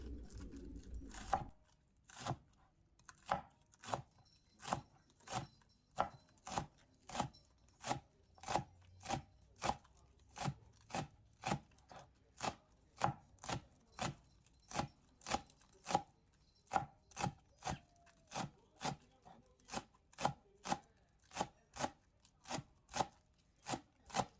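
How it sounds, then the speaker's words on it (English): Green onions are chopped on a cutting board in a steady run of sharp knife knocks, evenly paced at roughly two per second, close and clear with nothing else heard. "Three green onions, you can chop the small."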